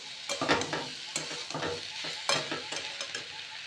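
Chili baby corn is stirred in a frying pan, a spatula scraping in a steady rhythm over constant sizzling, close and clear.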